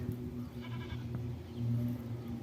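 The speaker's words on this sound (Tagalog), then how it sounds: "Yung kambing yung sumasagot." A goat bleats once in a short wavering cry over a low steady background hum, fairly faint and somewhat distant.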